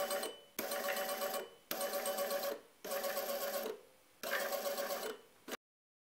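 Small electric motor salvaged from an old printer, driven at 5V, whirring steadily in four bursts of about a second each, separated by short pauses, with a slight mechanical rattle and no talking.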